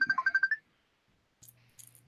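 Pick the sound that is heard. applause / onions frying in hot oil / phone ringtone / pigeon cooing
phone ringtone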